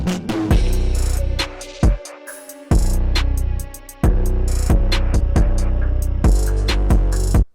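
A dark trap beat built in FL Studio plays loud and alone, with booming deep bass and sharp percussive hits, sustained tones and brief dropouts between sections.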